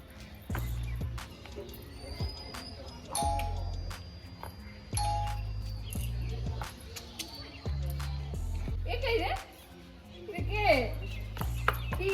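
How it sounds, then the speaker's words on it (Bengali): A home doorbell chimes repeatedly in a melodic ding-dong pattern, loud and close, with each tune separated by short pauses while people talk faintly in the background. "চলো বেল দাও"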